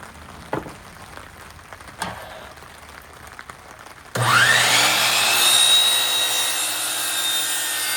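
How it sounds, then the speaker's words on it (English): A power saw cuts wooden baseboards during a garage installation, starting abruptly after faint knocks and running as a loud, steady whine that holds for several seconds. "Look at that, his saw is illuminated."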